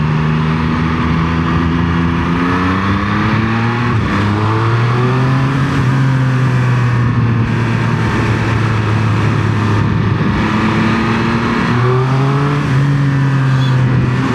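Triumph Speed Triple 1200 RX motorcycle engine pulling under load while riding, a loud steady drone whose pitch climbs and drops through several gear changes, close and continuous with heavy wind rush.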